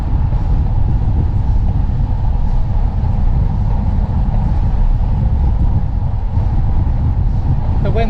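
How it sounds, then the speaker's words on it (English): Heavy wind buffeting on the mic while cycling downhill on a mountain-bike trail, a loud, steady low-pitched rumble that continues without break throughout. "The wind's pretty hard in my face"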